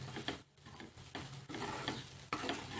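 Kurdai vegetable being stir-fried in a pan after salt is added, with close scraping strokes of a spatula over a soft sizzle, several rhythmic stirring passes.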